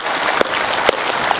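Audience applause in honour of soldiers, a dense crowd clapping steadily at a live poetry recital, with a few sharper individual claps standing out.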